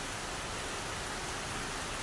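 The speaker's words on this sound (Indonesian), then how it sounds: "dan masih tetap hujan." Steady, dense rain falls at a campsite in Subang, a continuous close hiss of drops on surfaces with no other sounds standing out.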